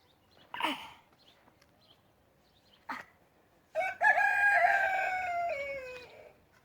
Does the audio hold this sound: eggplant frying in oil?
no